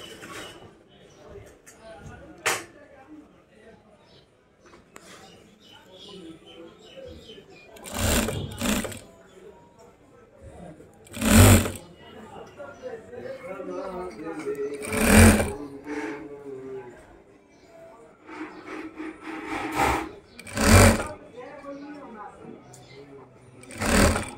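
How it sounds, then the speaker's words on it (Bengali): A sewing machine stitches a men's shirt in repeated loud, close bursts of rapid whirring, separated by quieter pauses, with speech faintly under it. "সেলাইয়ের কাজটা একটু দেখেন আপনারা, খুব নিখুঁতভাবে কিন্তু সেলাই করা হচ্ছে"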